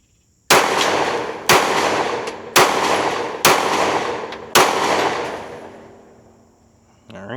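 Five sharp pistol shots at a shooting range, loud and close, spaced about a second apart with a decaying ring after each, followed by a brief lower thud at the end.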